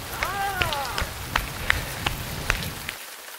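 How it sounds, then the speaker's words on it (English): Steady outdoor rain patters and hisses throughout, with sharp individual drop impacts scattered over it and a short whistling chirp near the start, before the sound cuts away abruptly at the end. "It is raining now, and we're not going to get much shooting done because none of these cameras are weather sealed"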